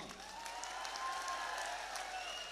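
Applause from an audience at a live Hindi comedy show, a steady, even wash of many hands clapping close by throughout, with faint crowd murmur and no talking over it.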